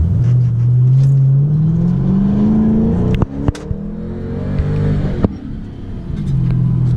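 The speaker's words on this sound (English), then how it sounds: "I'm gonna give you guys just a little launch to kind of give you guys an idea of an acceleration in this thing" A 2005 Ford Mustang GT launches at about three-quarter throttle, its V8 engine roaring louder and climbing in pitch through the gears. Sharp shift thumps break the rise, and the car is heard loud and close.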